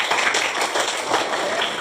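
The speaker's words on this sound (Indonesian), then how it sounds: "Tepuk tangan untuk kelompok" Group 4 gets a short round of applause in a classroom microteaching session, with dense steady clapping lasting the whole moment at fairly constant loudness.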